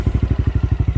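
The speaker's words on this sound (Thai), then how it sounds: "สตาร์ทติดเหมือนเดิมละ" Motorcycle engine running after a throttle cable repair, a close, loud, rapid thumping idle with about twelve even pulses in one second.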